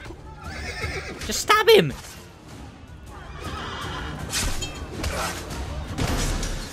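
Horse neighing in the video game Assassin's Creed Brotherhood, a loud close whinny rising and falling over combat noise, with hoof clops and scuffling around it and someone talking over parts of it.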